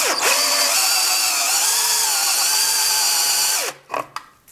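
A step drill bit on a Harbor Freight mini mill with a brushless motor cuts into metal. It gives a loud, steady high-pitched whine for several seconds, then winds down, followed by a few short clunks as it stops.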